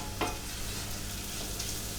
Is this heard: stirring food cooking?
yes